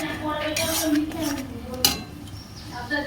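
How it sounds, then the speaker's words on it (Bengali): Spice paste stirred and fried in a pan for a Bengali jackfruit and prawn curry, with a steady sizzle under scraping and clinking of a spatula against the metal, close by. "মশলাটা এবার খুব ভালো করে কষবো।"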